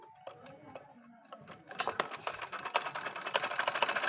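A home sewing machine, just threaded with its bobbin, starts stitching: light mechanical ticking that begins sparse and soft, then speeds into a dense, steady rapid clatter close by, with no talking.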